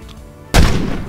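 A single sharp gunshot bursts out loud and close after a quiet lead-in, then decays into a lingering boom, part of action filmmaking footage.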